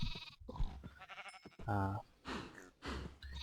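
Minecraft sheep bleat several times in a row, loud and close, each a wavering nasal cry with short gaps between them.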